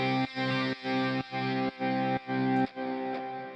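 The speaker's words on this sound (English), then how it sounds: "It's just a full entire guitar integrated into a plugin" Distorted electric guitar tone from a full guitar plugin preset with heavy distortion effects, played as five loud, rhythmic sustained chords with short gaps, ending on a ringing chord, with no voices.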